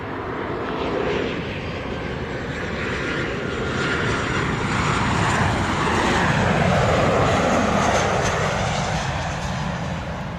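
A U.S. Air Force Globemaster transport aircraft lands in Jamaica, its engines giving a loud, continuous roar that holds steady and swells slightly throughout, with no talk over it.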